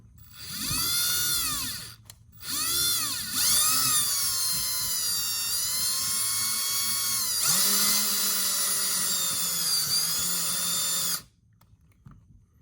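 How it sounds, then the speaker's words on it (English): A small power drill bores into a plastic doll-size tumbler lid to widen a hole for a straw. Close, loud whining bursts start and stop, then one long steady run with the pitch dipping and rising under load. "so we'll just drill a little bit more."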